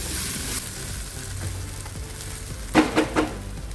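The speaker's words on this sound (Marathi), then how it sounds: "मटार, आलं आणि मिरची जे वाटून घेतलंय जाडसर ते घालूया। हे आता चांगलं परतून घेऊया।" Coarsely ground peas, ginger and green chili sizzle steadily in a hot pan for kachori filling, with a few louder stirring scrapes near the end.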